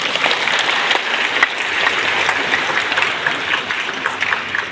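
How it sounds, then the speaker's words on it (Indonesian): A graduation audience in a large hall claps steadily, a continuous, even wash of applause without talk. "Tepuk tangan dulu."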